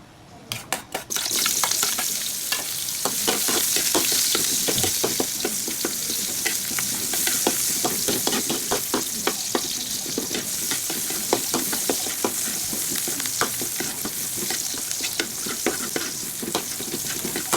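Garlic and onion sauté in oil in a pan as the base for chicken adobo, giving a loud, steady, close sizzle with frequent stirring scrapes and no talking.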